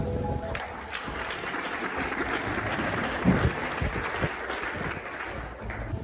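Audience clapping at a French speech event, a dense sustained patter of many hands filling the room at moderate loudness, steady throughout without a clear peak.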